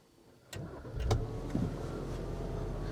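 A Maserati Levante GT Hybrid starts from inside the cabin: a quiet interior, a sharp click, then a soft whir and brief rise as the engine catches and settles into a low, hushed idle.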